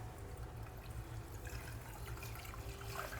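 Fresh chhena being rinsed and squeezed by hand in about a glass of cold water, giving a steady close, wet sloshing and trickling that runs without pause and carries no talk.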